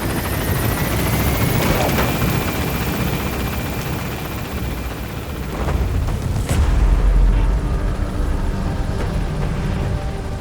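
A helicopter lifts off from a landing zone in Metal Gear Solid V, its dense, loud rotor wash and turbine drone filling the whole stretch, swelling slightly as it gains altitude, with a few thumping bursts partway through.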